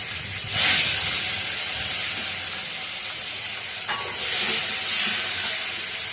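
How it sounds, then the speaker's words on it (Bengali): Fish sizzling as it goes into hot oil in a home kitchen, a steady broadband hiss with louder bursts near the start and again after the fourth second, no talking. "এবার মাছগুলো তেলে দিয়ে একটু ভেজে নিব"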